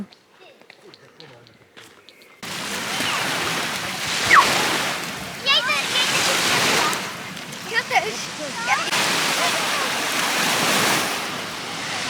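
Sea waves break on a beach on the Baltic coast near Gdańsk, surf rushing in steady swells while children play and splash in the water, with voices and wind buffeting the microphone after a quiet start.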